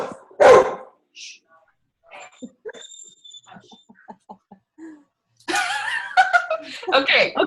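A dog gives one loud, sharp bark up close, followed by quieter sounds and chatter, then people talk and laugh loudly together.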